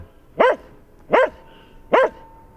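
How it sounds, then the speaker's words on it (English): A dog in a played recording gives three sharp, evenly spaced barks, close and clear against a quiet background. "It's him and the dog is barking."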